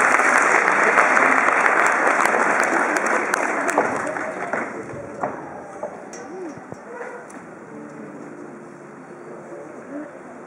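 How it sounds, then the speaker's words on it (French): An audience applauds after a song with a female singer and a guitarist, loud clapping at the start that gradually thins and fades, with faint voices and scattered noises in the background. "Applaudissements s'il vous plaît."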